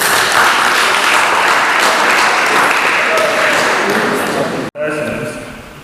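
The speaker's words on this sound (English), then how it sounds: "Please, can you clap for yourselves?" Workshop participants give steady, loud applause in an indoor room, dense clapping throughout that cuts off abruptly, followed by a quieter tail of scattered claps and room noise.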